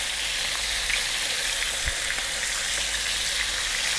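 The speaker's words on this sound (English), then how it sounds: "we're going to fry this around for about 6 or 7 minutes" Cilantro chicken seasoned with black pepper and salt fries in a pan, giving a steady, close hiss of sizzling with one brief soft knock partway through and no voices.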